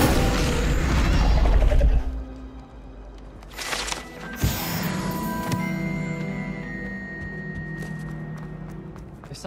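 A fire spell cast in Hogwarts Legacy bursts with a loud whoosh and crash, followed by ringing magical tones and a lingering rumble that fades gradually.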